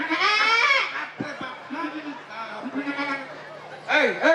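A goat bleats loudly nearby, a wavering, nasal cry at the start and another at the end, with quieter bleats and rustling between.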